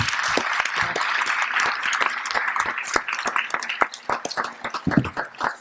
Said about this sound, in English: Let's have a round of applause for all our panelists.